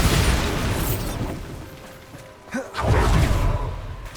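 A Bombardo blast spell in the Hogwarts Legacy video game, a loud booming explosion with a rushing rumble that fades, then a second burst of roaring debris.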